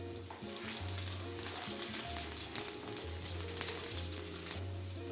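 Garlic sautés in a pan over medium heat, a steady close sizzle and crackle with faint stirring, no voices.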